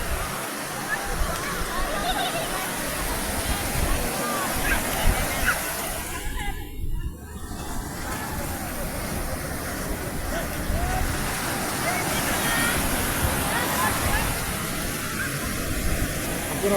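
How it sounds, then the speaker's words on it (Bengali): Surf rolls in at Cox's Bazar beach as a steady, broad roar of breaking waves that swells and eases, with someone talking over it. "আপনারা অবশ্যই কিন্তু সমুদ্রের গর্জন শুনতে পাচ্ছেন।"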